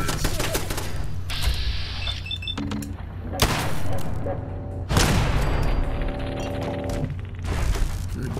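Turret gunfire in Fallout 4 arrives as several heavy booming shots spaced a few seconds apart, mixed with mechanical whirs, beeps and metallic creaks over a low rumbling game backdrop.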